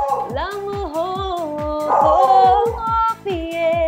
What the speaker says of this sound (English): That's my dog, by the way, who is singing with me